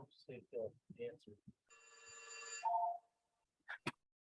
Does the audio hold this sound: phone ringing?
yes